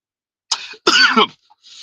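A single harsh cough, preceded by a short throat-clearing sound and followed by a faint breath, close and loud.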